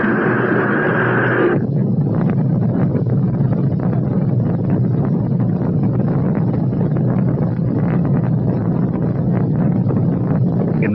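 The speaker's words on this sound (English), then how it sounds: "We've gone for main engine start." Rocket main engines starting at launch, a tone cutting off into a broad, steady roar with wind-like rumble that holds loud and unbroken throughout.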